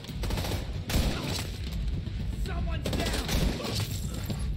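Sustained automatic gunfire in The Division 2 rattles in dense rapid bursts, loud and close, amid battle noise.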